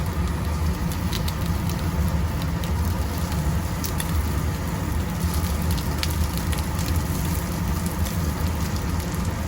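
Steamed momo frying on a hot tawa give off a steady, dense sizzle and crackle that holds even and loud throughout, with no voices.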